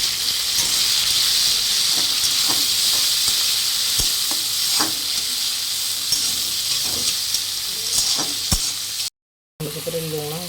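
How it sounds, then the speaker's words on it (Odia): Tomato frying with cumin, green chili and onion in a pan, a steady close sizzle broken by repeated scraping stirs and spoon knocks, ending after a brief silent break. "ଟମାଟୋ ଫ୍ରାଏ ହେଇଗଲାଣି।"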